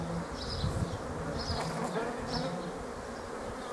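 Honey bees buzz steadily at an open hive during a beekeeping inspection, a dense continuous drone close by with no talking.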